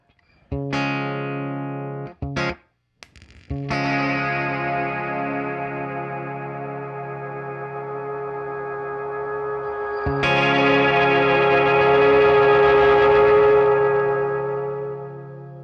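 A Hungry Robot Pedals Stargazer dual-channel reverb pedal with its decay set high swells into sustained, shimmering oscillating tones after a few short plucked notes, growing louder and brighter before slowly fading.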